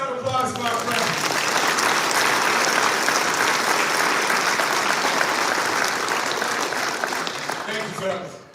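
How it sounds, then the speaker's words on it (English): Sustained applause from a seated audience at a football banquet, dense clapping that holds steady for several seconds before fading near the end, with a voice speaking over its start and finish. "All right, hey, give a round of applause for our friends."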